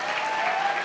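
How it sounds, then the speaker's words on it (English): Applause from an audience after a school choir's performance at an awards event, a dense, steady patter of many hands clapping throughout, without any voices. "So can we have a round of applause for these angelic voices?"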